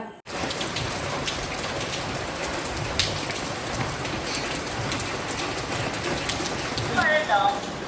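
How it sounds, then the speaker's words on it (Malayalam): Steady rain pours down throughout, a dense continuous hiss close by that stays even from start to finish, with a few faint tonal sounds near the end. "മഴ ഇങ്ങനെ കണ്ണീര് പോലെ ഇങ്ങനെ പെയ്യ"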